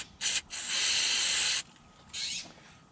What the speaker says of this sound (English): Spray that on and let it dry.